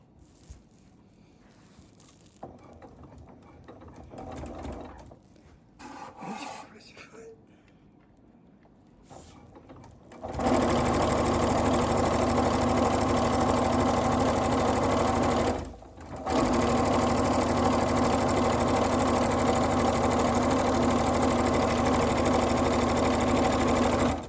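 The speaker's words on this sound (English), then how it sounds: "I'm gonna start out just sewing this one line" A sewing machine runs a straight diagonal line of stitching across fabric for an oven mitt, starting after some quiet handling of the cloth, then whirring loudly and steadily with one brief pause midway.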